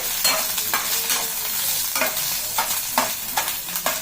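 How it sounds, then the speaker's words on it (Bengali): Garlic frying in a pan for an idli chutney crackles in a steady sizzle, broken by repeated stirring scrapes of a spatula at irregular intervals. "রসুনটা হালকা লাল লাল করে ভেজে নেব"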